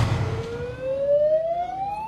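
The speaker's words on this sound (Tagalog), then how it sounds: "umalingaw-ngaw ang sirena dahil sa pagtaas ng tubig sa ilog." Warning siren wailing as river water rises in Ballesteros, Cagayan, during a typhoon, a single tone sliding steadily upward, loud and sustained over rumbling outdoor background noise with no talking.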